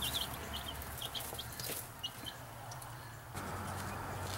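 Chickens and young chicks in a backyard chicken pen housing a rooster, a hen and a guinea hen, giving repeated short clucks and chirps over a steady low hum, fairly close and continuous.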